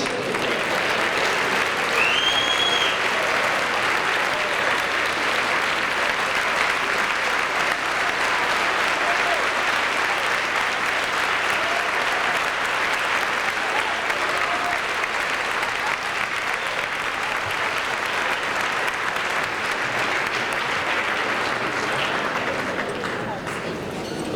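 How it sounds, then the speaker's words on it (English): A large audience applauds after an award speech, a steady wash of clapping that holds at a constant level for over twenty seconds with no pause. "Let's give Marilyn another round of applause"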